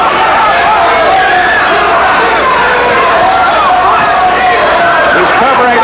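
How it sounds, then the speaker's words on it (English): Boxing arena crowd in the final round of a Scott Frank vs Steve Zouski fight, a dense, loud roar of cheering and shouting that stays steady and close throughout, with voices blending into a continuous wall of noise. "And the crowd going wild."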